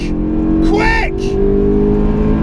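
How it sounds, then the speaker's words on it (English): Honda S2000 engine revving hard in third gear as it climbs into VTEC, a steady close-up drone with a brief excited shout over it partway through. "That was a third gear VTEC"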